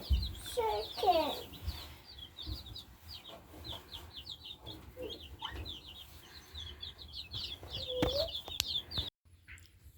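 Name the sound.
chickens clucking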